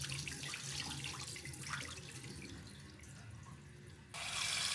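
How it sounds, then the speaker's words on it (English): Rice being rinsed with clean water in a sink, a continuous faint running and splashing of water with soft swishing, fairly quiet and alone. "Rinse the rice with clean water first."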